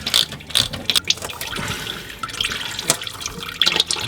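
Ratchet loosening a transmission sump pan bolt, rapid clicking pawl bursts in short repeated strokes, close and fairly loud, with trickling fluid and metallic handling noise underneath.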